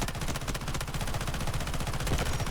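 Rapid full-auto bursts from an SG552 rifle in the shooter game Delta Force, sustained and loud throughout with a steady rattling cadence and no pauses.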